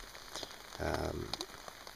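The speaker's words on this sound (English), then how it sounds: "even if it's raining like this tomorrow, I don't mind so much" Rain falling on a camp during a solo trip in Algonquin in August, a soft steady patter with a brief louder burst of drumming, faint and close.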